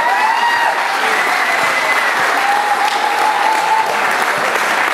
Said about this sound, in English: I think that we need to have a round of applause for Andy and his crew that were up here this